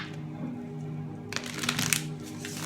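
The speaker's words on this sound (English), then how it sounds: "One last shuffle." Tarot cards are shuffled by hand: soft handling rustles, then a quick burst of riffling and flicking card edges up close, with no talking.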